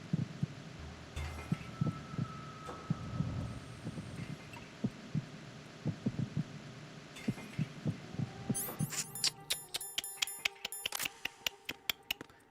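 In-game heartbeat from Metal Gear Solid 2, a steady run of low thumping beats pulsing throughout, with a hum and electronic bleeps and clicks crowding in near the end.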